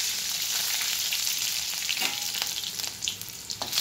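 Chopped garlic frying in hot oil with nigella seeds and dried red chillies, a dense, steady sizzle close up with a few stirring clinks toward the end.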